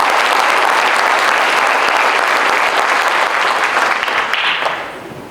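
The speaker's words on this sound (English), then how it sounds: "Let's give all of our former inductees a round of applause." Audience at a high school Hall of Fame ceremony applauding former inductees, a loud, sustained wash of clapping from a full room that fades out at the end.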